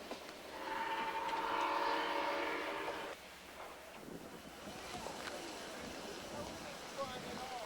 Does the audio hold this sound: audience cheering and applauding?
no